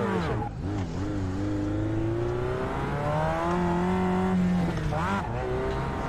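A race car in the iRacing sim game roars continuously, its engine pitch climbing and falling through gear changes over several seconds, loud and close, with no talk over it.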